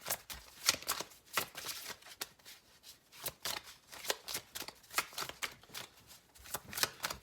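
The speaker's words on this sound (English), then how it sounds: "the deck that I'm using today is called the Modern Spellcaster's Tarot." Modern Spellcaster's Tarot cards being shuffled by hand, a close series of soft riffling slaps and swishes repeating in an irregular rhythm.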